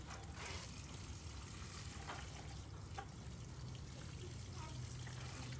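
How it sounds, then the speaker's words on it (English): Water poured from a 2-gallon container onto the soil around a citrus or fruit tree in a zone 9B garden, a faint, steady trickle and splash running continuously with no talking. "I'm gonna water in."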